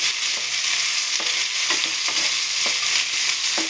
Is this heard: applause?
no